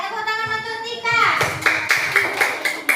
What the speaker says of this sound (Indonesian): tepuk tangan untuk Tika